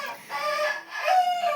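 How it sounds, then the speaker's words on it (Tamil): A rooster crows loudly and close by, one drawn-out cock-a-doodle-doo call with rising and falling notes, heard alone. "கூவிட்டான்டா, சேவல் கூவிட்டான்,"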